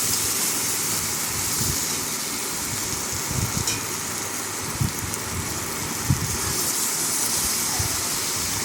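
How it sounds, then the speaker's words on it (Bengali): Water pours into a pan of jackfruit, potato and prawn curry, making a steady, close rushing gush that runs unbroken with a few small splashes and no voices. "এর মধ্যে আমি দিয়ে দেব পরিমাণ মতো জল"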